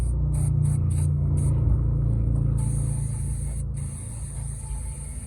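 Cleaner sprays onto the differential of a 2007 Ford Mustang base V6, a steady close hiss over a low rumble that holds throughout without a break.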